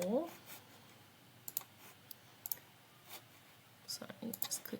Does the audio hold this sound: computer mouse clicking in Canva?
yes